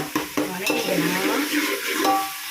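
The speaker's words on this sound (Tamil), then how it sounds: "புதினா போட்டு வதக்கிக்கலாம்" Mint leaves sautéed in oil for a large pot of biryani, a close spoon scraping and stirring with a few sharp knocks over a soft sizzle.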